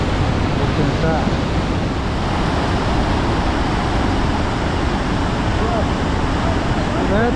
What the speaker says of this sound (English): a pretty good sized waterfall